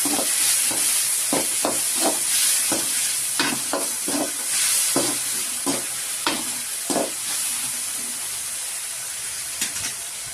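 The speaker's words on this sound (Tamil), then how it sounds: "நல்லா வதக்கி விடுங்க." Tomatoes sautéed in a pan for lunch, giving a steady sizzle with repeated scraping stirs of a spoon against the pan, close and clear, with no talking.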